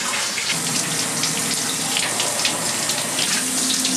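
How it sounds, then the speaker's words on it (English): Shower water running in a steady, close, hissing spray that stays constant and fills the whole stretch with no talking. "I've been watching you take a shower for the past 40 minutes."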